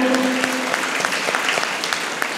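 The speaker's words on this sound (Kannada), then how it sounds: "ಒಂದು ಸಾತಿ ಜೋರಾಗಿ ಪತ್ರಿಜಿ ಅವ್ರಿಗೆ ಚಪ್ಪಾಳೆಯನ್ನು ಹೊಡೆಯೋಣ" An audience applauds Patriji at a Tumkur Nada Dhyana gathering, with dense, even clapping close by that continues steadily throughout.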